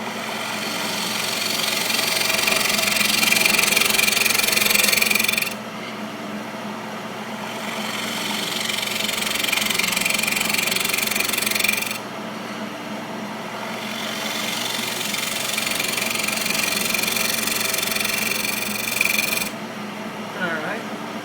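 A wood lathe spins a mahogany bird feeder blank at about 1200 RPM, giving a steady, high whirring hum that swells and drops in long sections, with a voice speaking over it.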